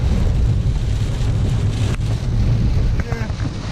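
Heavy rain pours down in a steady, dense broadband roar close by, with wind buffeting the microphone throughout and a brief distant voice late on.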